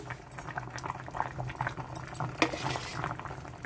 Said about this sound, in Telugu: పులుసు ఉడుకుతుందండి